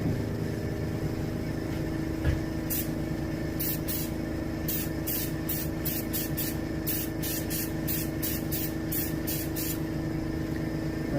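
An airbrush sprays paint onto a striped bass skin mount in a rapid series of short hissing bursts over a steady compressor hum.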